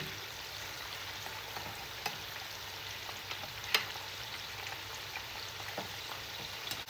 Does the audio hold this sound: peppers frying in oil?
yes